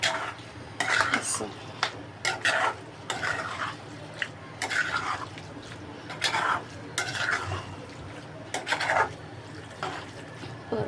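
Food being sautéed in a pan over low heat, a spoon scraping and clinking against the pan in repeated bursts over a soft sizzle, close by, with a brief spoken word.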